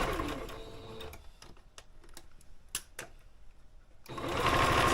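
Sewing machine stitching a shoulder seam on a garment, a loud continuous motor whir at the start, then a pause filled with quiet clicks and taps before the machine runs again at full speed.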